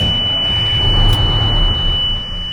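A steady, high-pitched dashboard warning tone drones continuously over the low rumble of an idling Oshkosh M1070 truck engine.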